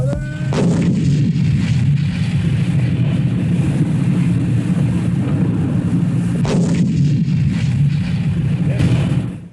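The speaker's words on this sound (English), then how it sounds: "In a jam, a commander can always call up artillery support." Artillery fire in 1965 around Da Nang, Vietnam, with two sharp blasts, one at the start and one near the end, over continuous loud rumbling field noise.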